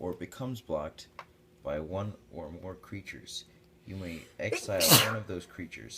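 A single sharp sneeze bursts out near the end amid steady talk during a card game rules discussion, close and loud against the surrounding voices.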